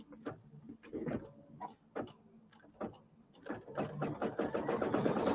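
A sewing machine stitches a fabric piece for a bench pillow, running in short stop-start bursts of rapid ticking, then settling into a steadier continuous whirr, near and fairly quiet, with no talking.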